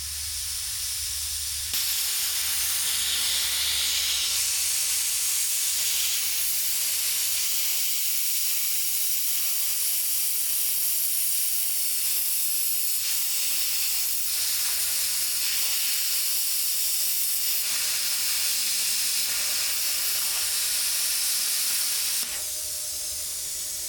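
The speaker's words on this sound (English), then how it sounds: "All right, now I'm gonna try and plasma cut." A plasma cutter slicing through old trailer metal, a loud steady hissing roar that runs almost unbroken for the whole stretch, briefly dropping near the start and end, with no talking.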